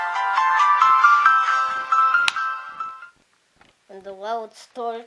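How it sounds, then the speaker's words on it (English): A Nokia mobile phone plays its loud shutdown tune, a bright ringing melody lasting about three seconds before cutting off, followed by someone talking nearby. "And the loud startup and shutdown, I like it."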